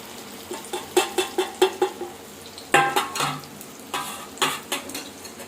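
An egg omelette fries in oil in a pan with a steady sizzle, while a utensil scrapes and taps against the metal in quick rhythmic bursts. The sounds are close and clear, with no voices.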